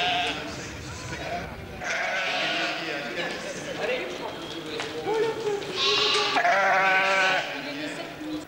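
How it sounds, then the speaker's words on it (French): A flock of ewes at a sheep-herding event bleats repeatedly and close by, with overlapping calls rising and falling as a voice speaks among them. "Voici les brebis"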